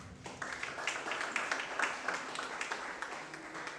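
Steady applause from a crowd at a high school graduation, many hands clapping in a dense, continuous patter at moderate volume.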